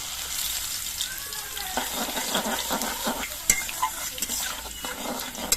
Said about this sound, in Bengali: ফোড়নগুলো ভাজা হয়ে যাওয়ার পর এর মধ্যে আমি থেতো করার রসুন দিয়ে দিচ্ছি